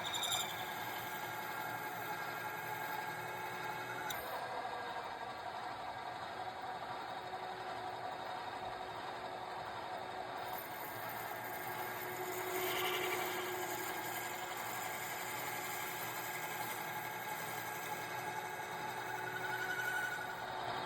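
A file is worked against a brass lid spinning on a lathe and mandrel, giving a continuous scraping, rasping sound with faint rhythmic strokes over the lathe's steady motor hum, close and moderately quiet.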